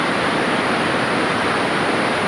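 Wind blowing at an outdoor shooting range, a steady broadband rush of gusting air over the microphone, loud and continuous with no voices.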